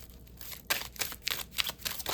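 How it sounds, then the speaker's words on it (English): Tarot cards are shuffled close by, giving a run of quick, soft riffling flutters and light slaps at an uneven rhythm. "let me just shuffle them again,"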